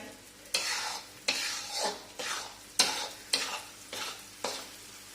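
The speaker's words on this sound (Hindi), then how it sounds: "तो एक टाइम पे वापस मैं थोड़ा डिंक पाउडर डालूंगी तो अच्छी तरह से उसमें हो जाएगा फ्राई।" Edible gum powder frying in a pan while it is stirred without a break: a steady sizzle under repeated scraping strokes, six or seven rhythmic sweeps close up, with no voices.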